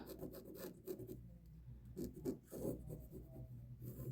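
A marker drawn along the sides of quilting fabric for a scrappy star block, making soft repeated rasping strokes, fairly close and quiet, with no talking.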